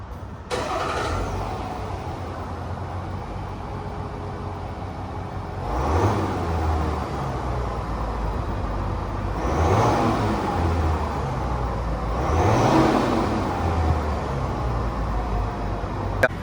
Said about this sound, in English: that was of course the sound of the new 3-liter turbocharged diesel engine from Duramax